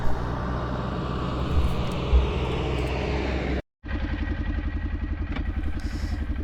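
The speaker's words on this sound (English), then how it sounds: "Just gonna hop on the four-wheeler here and chase this group out to the pasture" Four-wheeler ATV engine on a Pennsylvania dairy farm, a steady loud motor drone with a rhythmic low pulsing that cuts out briefly and restarts, running alone without talk.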